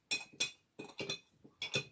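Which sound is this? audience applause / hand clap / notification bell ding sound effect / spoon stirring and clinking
spoon stirring and clinking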